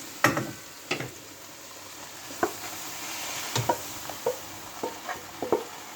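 Potatoes and masala stirred into a pan of frying okra, with scattered spoon scrapes and knocks over a steady sizzle, close and fairly loud.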